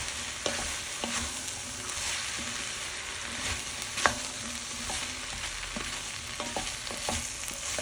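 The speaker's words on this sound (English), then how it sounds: "you're just going to stir that all together so you can smell the fragrance of the ginger and the curry" Ginger and red curry paste sizzle in a pan while being stirred for a Thai red coconut curry soup with shrimp, with a steady frying hiss, repeated spoon scrapes and one sharp knock.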